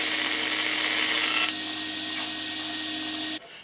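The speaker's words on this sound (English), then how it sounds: "That bandsaw is such a brilliant bandsaw, and the blade is very sharp, and there is no resistance to movement at all." A sharp bandsaw slices through a wooden acoustic guitar back, giving a steady, fairly close high whine that drops in level partway through and then cuts off near the end, with no talking.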